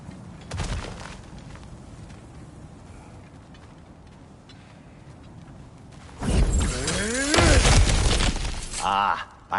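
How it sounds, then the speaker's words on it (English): Cracked ground smashed apart in God of War Ragnarok, with a sharp shattering burst early, then a loud crumbling crash with scattered debris near the end. A quiet stretch of room tone sits between the two. "Ah, back to smashing through things for fun and profit."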